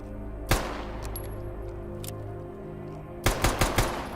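Rifle fire from a 417 in the G.A.M.M.A. shooter game: one sharp shot, a long pause, then a quick burst of four shots close up over a low steady background hum.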